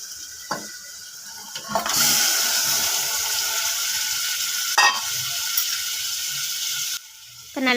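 Mutton fries with ginger garlic paste in a pan over a slow flame, making a loud, steady, close sizzle with a few scraping stirs that cuts off briefly near the end.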